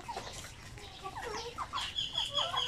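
Zampen native chickens clucking near a rooster, a series of soft, quick clucks and short calls that build slightly in loudness over a couple of seconds against a quiet background.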